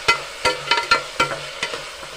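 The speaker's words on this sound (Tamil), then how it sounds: "இதையும் நல்லா நான் வதக்கிடுறேன்" Ingredients being stirred and sautéed in a pressure cooker, with a soft sizzle under a series of sharp scraping and clinking spoon strokes against the metal pot, close and steady with no talk.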